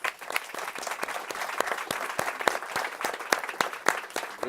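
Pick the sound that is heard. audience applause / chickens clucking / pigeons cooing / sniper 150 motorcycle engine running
audience applause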